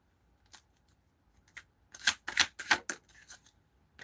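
Playing cards are shuffled in a few quick crisp riffles, close and fairly loud, with faint rustles before and after.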